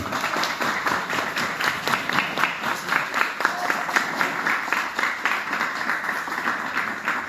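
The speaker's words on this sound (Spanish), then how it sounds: "otro aplauso para ellos, por favor, grande" A group at a basketball club talk in Bogotá claps for the speakers, with distinct, fairly rhythmic hand claps close by that carry on steadily for several seconds.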